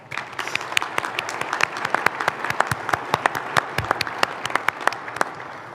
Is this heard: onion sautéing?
no